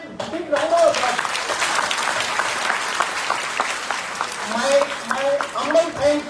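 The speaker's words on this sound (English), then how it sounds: "Give a big round of applause." An audience claps at a college orientation programme for MCA students, with a sustained round of applause carrying along while voices talk over it, the talk most noticeable near the start and again toward the end.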